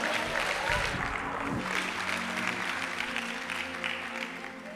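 A church congregation claps steadily throughout, a dense, continuous wash of applause with voices mixed in.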